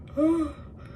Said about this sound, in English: sometimes when I talk too much I yawn because I am not breathing enough